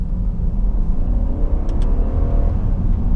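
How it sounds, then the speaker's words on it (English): A 2017 Genesis G80 5.0 Ultimate with its V8 engine accelerates in sport mode and manual mode. A loud, steady engine drone rises in a continuous pull with no one talking over it. "That V8 picks up"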